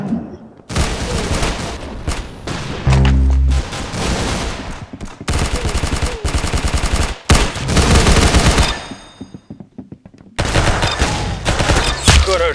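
Rapid bursts of automatic gunfire and single shots from a video game shooter, loud and close, broken by short pauses and a few deeper booms.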